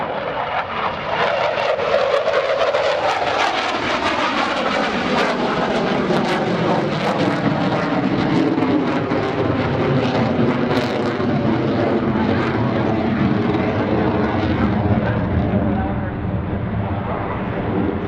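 A Boeing F/A-18F Super Hornet performs a vertical pirouette at the 2018 NAS Oceana airshow, its jet engines roaring loud and sweeping in pitch as the aircraft maneuvers, while an announcer speaks over the public address.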